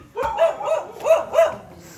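A dog barks nearby in a quick run of about five sharp barks, loud and close, with no talk over it.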